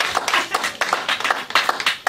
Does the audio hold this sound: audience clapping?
yes